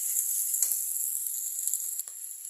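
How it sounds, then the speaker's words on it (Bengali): Spices sautéing in hot oil give a steady, faint high sizzle throughout, with a couple of brief stirring scrapes and no voices. "1 মিনিট মতো একটু কষিয়ে নিচ্ছি নেবে।"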